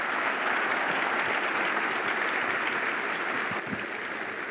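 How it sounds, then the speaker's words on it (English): Audience applause for Michael Abrash at a workshop on virtual reality and artificial intelligence, a steady wash of clapping from a large crowd that keeps going and eases off slightly toward the end. "So a big round of applause for Michael Abrash."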